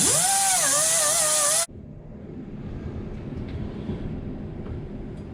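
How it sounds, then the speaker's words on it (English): A wire wheel scrubs caked, mucky rubber from inside a vehicle suspension part: a loud, shrill whirring spin-up that cuts off abruptly, then a softer, steady scraping grind. "I'm just going to take a wire wheel and clean all the mucky rubber out of the inside"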